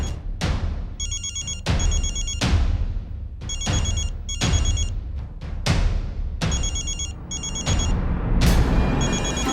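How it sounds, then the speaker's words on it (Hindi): A mobile phone ringtone rings loudly in a domestic comedy scene, with repeated bright bursts in a steady rhythm under a dramatic musical score, each burst followed by booming hits. "फोन बज रहा है आपका, उठाइए पहले।"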